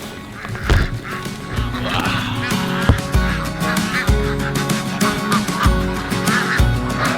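Ducks on a farm quack and honk loudly at evening feeding time, a dense overlapping chorus of close, repeated calls with occasional thuds and rustling.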